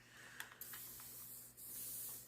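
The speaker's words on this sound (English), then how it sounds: "And then I'm going to spray it with water." A handheld spray bottle mists water onto a paper napkin in quiet, close hissing puffs, with a few short soft spritzes followed by a longer steady spray.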